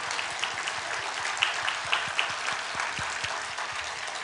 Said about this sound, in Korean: 우리 격려의 박수 한번 해주면 고맙겠습니다